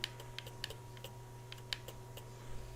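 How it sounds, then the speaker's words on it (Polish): Faint, irregular plastic clicks from gamepad button presses, scattered quick taps over a steady low hum, no talking. "słyszycie, jak ja klikam sobie padem"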